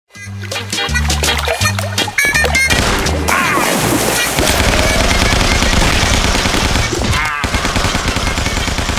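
Loud, rapid gunfire and crashing explosions from the 2D indie video game Guns, Gore and Cannoli, with dense bursts of automatic shots over a game soundtrack for several seconds.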